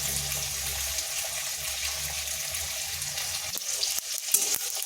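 Black mustard seeds fry in hot oil in a wok, giving a steady close sizzle with a few sharp pops rising near the end; no voices.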